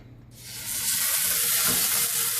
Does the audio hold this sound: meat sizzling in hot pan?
yes